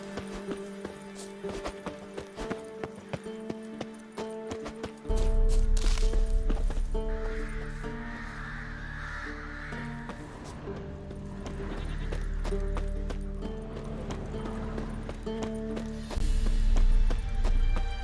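Roach, Geralt's horse in The Witcher 3, gallops with steady hoofbeats and a whinny, close and loud over game music, the pace picking up midway.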